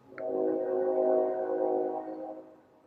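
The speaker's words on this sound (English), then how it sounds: "Can you guys hear the train in the background?" A train passes in the background as a steady, mid-distance rumble with sustained tonal hum, swelling and then fading over a few seconds, with no talk over it.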